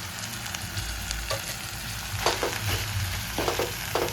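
Fenugreek leaves fry in a pan while being stirred, giving a steady close sizzle broken by a few sharp scraping stir strokes near the end.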